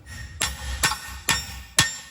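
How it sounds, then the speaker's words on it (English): Four sharp metal hammer strikes, about half a second apart, drive a rusty key out of a lower control arm on a crew cab OBS truck; each impact rings loud and close with no talk. "So I just got a little extension, got a hammer, and we're gonna beat the fire out of it."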